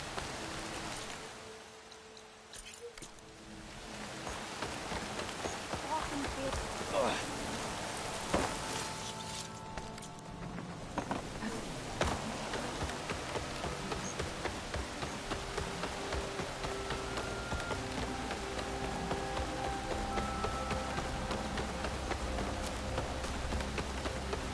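Steady rain hisses in the open-world video game Horizon Forbidden West, a continuous even downpour with scattered sharper drops and a soft rumble underneath, alone with no voices.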